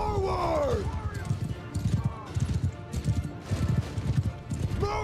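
Horses gallop in a medieval video game battle, a dense, rhythmic clip-clop of many hooves pounding steadily throughout, with a whinny early on and faint voices mixed in.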